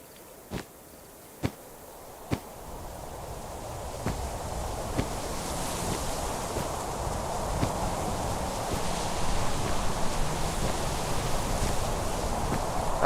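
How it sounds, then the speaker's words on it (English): Wind blows in Minecraft in a steady, swelling rush that builds over time, with a few sharp taps and thumps early on. "Sounds a little windy."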